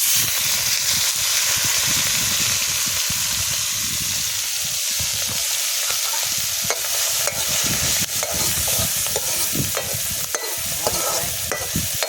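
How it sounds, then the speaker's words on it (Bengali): Small shrimp fry in a pan with garlic, giving a loud, constant sizzle and hiss, with stirring scrapes and crackles that keep running without a break. "চিংড়িগুলো অল্প করে ভেজে নিয়ে তুলে নেবো"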